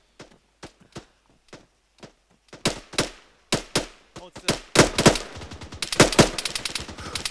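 Gunfire in the military shooter Arma 3, sparse single shots building into rapid bursts and dense overlapping automatic fire, growing louder and closer.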